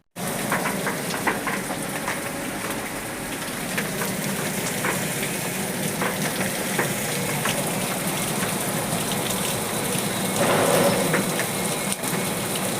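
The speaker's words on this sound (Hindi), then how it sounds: "अब बारिश काफी जोरदार होने लगी।" Heavy rain heard from inside a truck, a steady dense roar of drops drumming on the surface for the whole stretch, with no talk.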